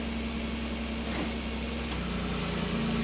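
A 2005 Chevrolet Equinox engine idles in drive with a steady, close hum and a constant low drone, the tone shifting slightly partway through as the load settles.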